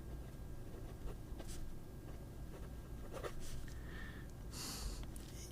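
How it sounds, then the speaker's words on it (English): Scratchy nib of an acrylic Majohn P141 fountain pen dragging across paper, a steady dry scratching that continues throughout at close range, with a few brief sharper strokes and no talking. "So the nib is a little scratchy."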